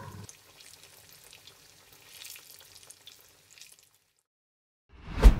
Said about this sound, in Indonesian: Goreng sampai kayak gimana nih, Po?